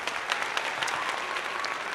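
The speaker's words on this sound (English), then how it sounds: "Let's give a round of applause to that." Round of applause from an audience at a live show, a dense, steady wash of clapping that holds evenly for a couple of seconds, fairly close and alone without talk.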